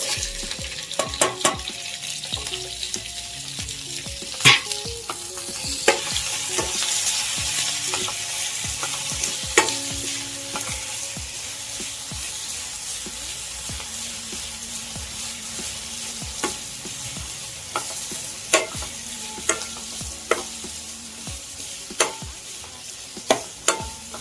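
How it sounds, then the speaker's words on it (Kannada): Onion, tomato, coriander, mint, curry leaves and green chilies frying for a wedding-style chicken dry fry, a loud steady sizzle close up, broken by frequent clicks and scrapes of stirring, with no voices. "ಇದು ಚೆನ್ನಾಗಿ ಫ್ರೈ ಹಾಕ್ಬೇಕು"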